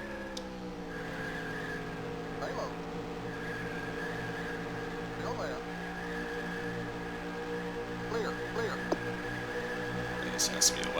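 Race truck engines drone steadily on the Homestead oval in a NASCAR Craftsman Truck Series racing game, a sustained multi-tone hum with brief tire chirps near the end.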